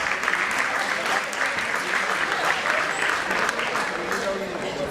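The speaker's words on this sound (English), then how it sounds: "A round of applause." An audience at a radiology conference gives a sustained, dense round of applause, loud and even throughout with no pauses.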